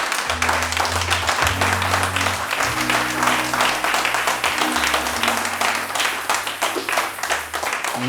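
A church congregation applauds in a steady, loud wash of clapping that lasts throughout, while sustained organ or keyboard notes play underneath.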